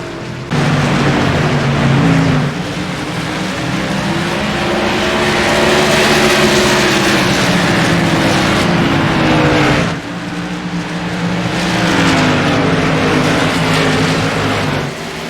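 Modified race cars run at Nashville Fairgrounds Speedway, their engines roaring loudly and continuously, with rising and falling pitch as they pass. There is a brief dip near the middle before the roar surges again.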